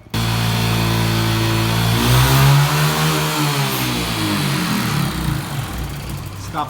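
A Honda Biz 125 motorcycle with a punctured exhaust revs up and then settles, its engine loud and close, with a rough, raspy drone that rises and falls over several seconds.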